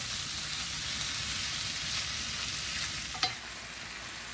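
Steady, loud sizzle of leftover steak frying for fajitas in a hot pan, a continuous broad hiss with a single sharp click near the end.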